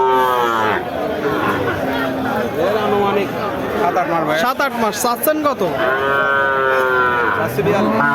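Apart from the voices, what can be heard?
Korat breed heifer calf mooing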